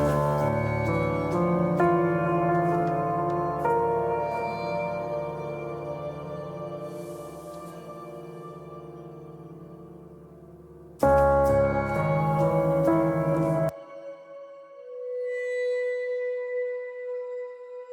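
Piano chords blend with a sustained shimmering synth vibraphone pad that swells and rings on, ending with a single held tone fading out.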